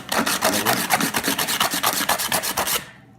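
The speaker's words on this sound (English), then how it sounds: "You just scrape it a little bit." A hand scraper works across a floor tile in quick repeated strokes, about a dozen close, loud raspy scrapes in a steady rhythm, ending abruptly.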